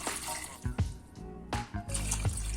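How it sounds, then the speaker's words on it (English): Water poured from a container into a preheated pan of sweet potato slices on a medium flame, splashing and sizzling in several bursts, close and clear with no talk. "Now add 2 cups of the water"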